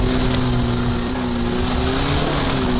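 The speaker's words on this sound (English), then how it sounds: "The wheels would lose traction and spin." A 4WD vehicle struggles up a steep section of the Deddick Trail dirt track on tyres aired down to 25 psi, its engine droning steadily and loud throughout as the wheels spin and lose traction.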